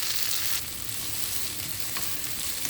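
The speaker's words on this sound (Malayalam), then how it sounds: "സമയത്ത് നമുക്കിതിലേക്ക് നമ്മുടെ സബോളയും ബാക്കിയുള്ള എല്ലാ സാധനങ്ങളും കൂടി ഒരുമിച്ചിടാം. ഇത് നന്നായിട്ട് നമുക്ക് വഴറ്റിയെടുക്കണം." Onions and other curry ingredients for a Kerala-style egg curry sauté in a pan with a loud, dense, continuous sizzle, close and unbroken, with faint stirring beneath.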